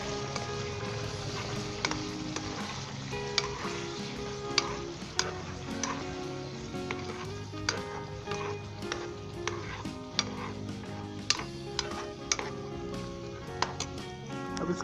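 Chicken liver, heart and gizzard fry with yogurt stirred through them, a constant sizzle under frequent spoon clicks and scrapes against the pot in an uneven rhythm; no speech.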